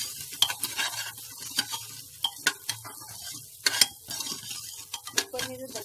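Broken wheat (dalia) being stirred and roasted in desi ghee in a pot, with repeated scraping strokes of a spoon and a soft sizzle close by, with no talking.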